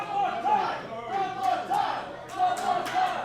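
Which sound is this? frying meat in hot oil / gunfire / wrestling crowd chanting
wrestling crowd chanting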